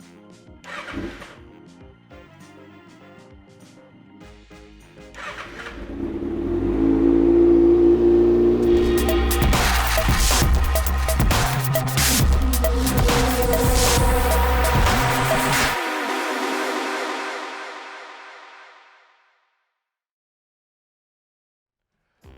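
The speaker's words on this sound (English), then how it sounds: "let's go ahead and start it and let it run for a minute so that it's warmed up" A 2019 Kawasaki Ninja ZX-6R fitted with an M4 exhaust fires up after a few faint clicks, rising into a loud, close, steady idle with a raised hum that holds for about ten seconds before the engine cuts and falls silent.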